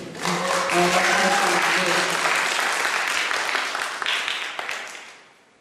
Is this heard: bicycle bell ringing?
no